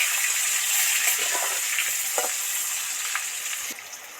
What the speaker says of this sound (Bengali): ভিতরে তো তেল টুকবুক টুকবুক করে ফুটছে